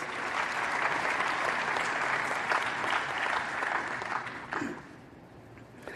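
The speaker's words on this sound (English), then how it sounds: "Let's give them a round of applause." Sustained audience applause at the announcement of South Africa's election results by the election commission, steady and full for several seconds before thinning out near the end.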